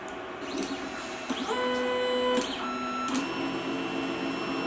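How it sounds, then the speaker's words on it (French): An Anet ET5X 3D printer running, its stepper motors whining in shifting sustained tones with short sweeping moves, loud and close with no talking. "Là, on est quand même sur une machine sacrément bruyante, hein."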